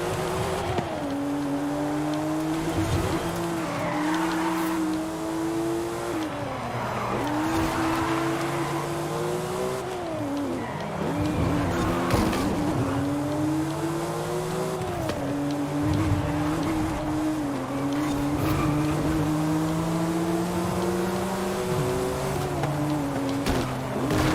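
Race cars in a Forza Horizon 5 circuit race roar continuously, engines rising and dropping in pitch through repeated gear shifts and revving, with occasional tire noise, loud and steady throughout.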